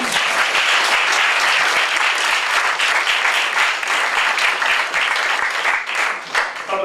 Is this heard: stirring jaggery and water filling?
no